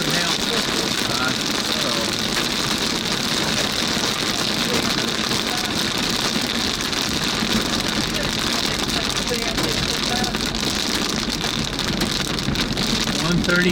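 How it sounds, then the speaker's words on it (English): Hail and rain pour down in a Kansas City area storm, a dense, loud, continuous hiss and patter across the whole stretch, with talk partly under it. "I think we might be getting some hail."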